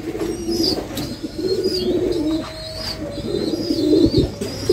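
Pigeons cooing in a loft, several birds giving low throaty rolling coos one after another, close by, with a few faint higher chirps and brief wing flutters in the background.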